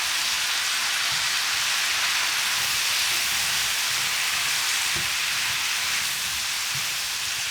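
Pork pieces being stirred with soy sauce in a hot pan for Bisaya-style humba, giving a steady, close sizzle and hiss of frying with faint scraping bumps throughout, no voices.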